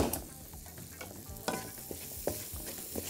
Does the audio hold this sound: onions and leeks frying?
yes